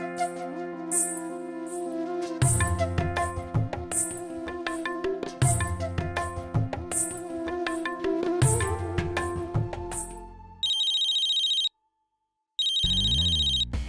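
A mobile phone left in a car rings with a repeating melodic ringtone in regular cycles, fairly loud and alone, then switches to a sustained electronic tone that cuts out briefly before resuming.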